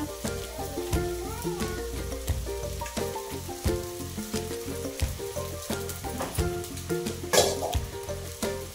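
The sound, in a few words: sago pearls sizzling while being sautéed in a pan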